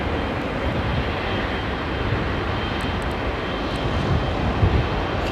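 An airplane makes a low departure flyby, a steady, broad engine roar that stays fairly loud and even throughout, with no talking over it.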